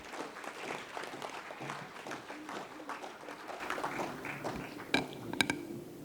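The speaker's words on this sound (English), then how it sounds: "Can we have a loud round of applause for her" An audience applauds basketball player Akansha Singh at an International Women's Day celebration. The clapping is moderate and continuous, with a few sharper, louder claps near the end.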